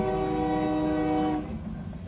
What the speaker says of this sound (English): Train. Right on time.